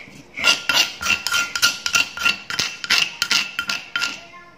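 A stone pestle pounds chili sambal for sambal geprek in a stone mortar, giving a rapid, uneven series of sharp knocks and clinks up close, with no talking.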